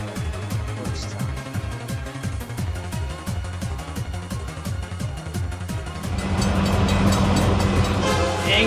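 A train in a video game rumbles past with rhythmic clickety-clack wheel beats that quicken, then swells into a louder, denser roar as it strikes the player, no voices.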